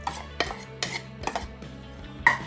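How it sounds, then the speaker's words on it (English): Turkey burger mixture being mixed with sauce, cilantro and scallions in a bowl, producing a series of light clinks and scrapes of a utensil against the dish in an irregular rhythm, quiet and close. "I'll give these all a mix"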